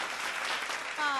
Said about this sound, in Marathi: डोंबिवलीच्या संघासाठी जोरदार टाळ्या तर आपोआप होतीलच